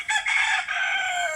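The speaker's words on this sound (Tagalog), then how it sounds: "Nara atong mga binuhing manok." A rooster crows loudly and close by, one long strained call lasting over a second, with no other sounds around it.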